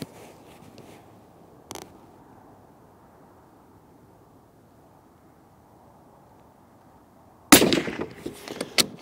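Single shot from a Sako 90 Quest rifle loaded with Norma Tipstrike 170 grain factory ammunition, fired off a bench outdoors: a faint early crack, then a long quiet stretch before a loud report with rattling afterward.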